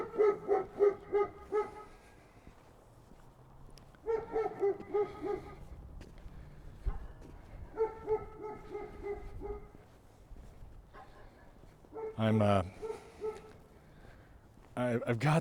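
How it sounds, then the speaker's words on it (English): A dog in a small Montana town barks repeatedly in bursts of several quick, fairly close barks separated by pauses, with people talking at times. "We have a disgruntled pupper here. Doesn't like the sound of us."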